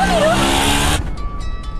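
An auto rickshaw engine roars loudly and steadily for about a second as it pulls away, then cuts to a quieter, fading hum with faint rattles.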